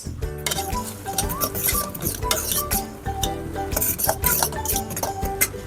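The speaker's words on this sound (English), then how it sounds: "I'm gonna take my fork and I'm gonna mix the rice." A metal fork stirs and fluffs cups of dry rice in a bowl or pot, producing a busy stream of light clinks, scrapes and pattering grains, close and steady, with no talking.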